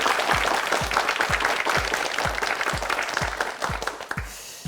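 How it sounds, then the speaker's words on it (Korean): Studio audience applause on a KBS Korean-language quiz show, a broad sustained clapping from the crowd over a steady beat of low thumps at about two per second, loud and continuous throughout. "박수 보내주세요."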